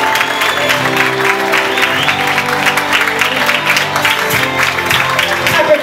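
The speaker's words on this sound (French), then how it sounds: "Il s'agit bien évidemment de Flora sous vos applaudissements." An audience at a fashion show at La Barca claps in sustained applause over background music, loud and continuous, with a voice speaking over it.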